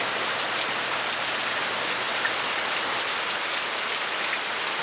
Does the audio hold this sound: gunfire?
no